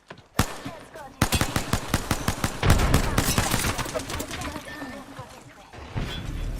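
Rapid gunfire rattles through a video game firefight, with sustained automatic bursts of loud, sharp shots in quick rhythm, broken by short pauses and scattered single cracks, close and dense under occasional talk.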